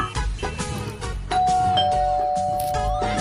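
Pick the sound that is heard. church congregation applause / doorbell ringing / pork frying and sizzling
doorbell ringing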